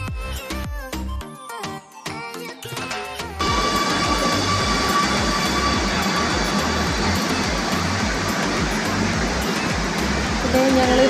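Kochi Metro train arriving at a station at night: after a few seconds of other sounds, a sustained loud rushing roar takes over and builds toward the end.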